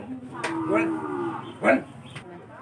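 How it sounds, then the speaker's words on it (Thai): A water buffalo at a rural livestock market in Phitsanulok, Thailand, gives two loud, close moos, a long drawn call followed by a shorter one, with no talk over it. "ก็ไปดูควายแม่ตัวนี้นะครับ"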